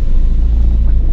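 A car drives on a rainy day with a steady, loud low engine and road rumble throughout and no voices.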